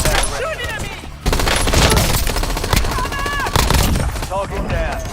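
Heavy rapid gunfire in a shooter video game, dense bursts of automatic shots close and loud, with brief pauses and people talking over the shooting.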